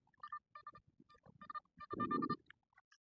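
Short bursts of electronic tonal beeping from a metal detector repeat in quick clusters, rising in intensity toward the end, with a low rumbling scrape underneath, on a dry lake bed.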